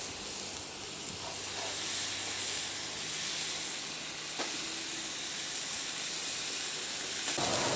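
Filipino BBQ pork skewers on a grill give off a steady, broad sizzle and hiss, close and continuous, with a few faint clicks.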